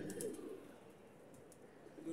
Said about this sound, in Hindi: पर है अच्छी कबूतरी जो भी है ना, है अच्छी